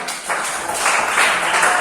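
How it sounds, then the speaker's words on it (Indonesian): Audience applause in a classroom during a music teaching practice session: dense, continuous clapping from a group, fairly loud and close, swelling slightly partway through and holding steady to the end. "Tepuk tangan untuk kita."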